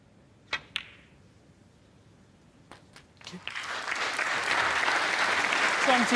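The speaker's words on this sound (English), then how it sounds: "Deserves the applause from the Barbican crowd." A snooker audience at the Barbican in York claps for a break at the UK Championship, starting after a few sharp clicks and swelling into sustained applause.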